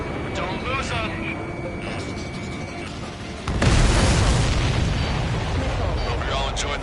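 Explosions in the air-combat game Ace Combat 7: Skies Unknown, a loud sustained rumbling barrage that swells suddenly midway into a dense roar, with radio chatter and engine noise underneath.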